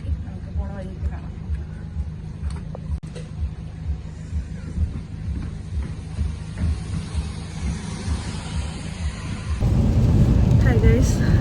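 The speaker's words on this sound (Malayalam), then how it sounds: "നല്ല മഴയാണ്." Heavy rain and rumbling thunder surround a car on the road, a steady dense roar with low rolling rumbles that swells louder toward the end, with voices talking inside the car.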